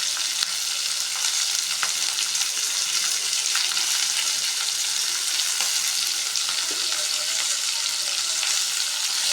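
Chopped onions fry in a hot pan while being stirred, a loud, steady broadband sizzle running unbroken throughout with faint scraping under it.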